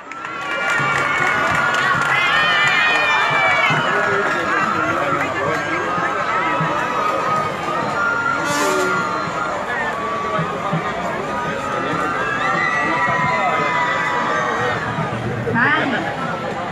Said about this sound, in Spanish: Recibimos con un fuerte aplauso a los estudiantes del Politécnico